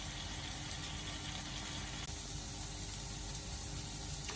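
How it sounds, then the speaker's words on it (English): Garlic and onions cooking gently in a pan for beef chilli give off a faint, even, continuous sizzle with a bubbling texture, quiet and steady with no talk. "So we've got the garlic and the onions, and we're just going to lightly cook these for a few minutes."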